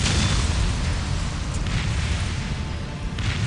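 Orc artillery in Warhammer 40k Dawn of War keeps up a continuous rumbling barrage of explosions and booms, loud and sustained, with occasional brighter bursts on top.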